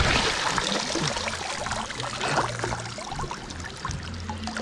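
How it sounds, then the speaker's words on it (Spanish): Water from an icy creek running over stones on private land, a steady close trickling and splashing wash with small gurgles throughout. "Ah, miren, acá trae otro arroyo."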